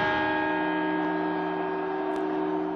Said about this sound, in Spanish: Y por último, tenemos las campanadas.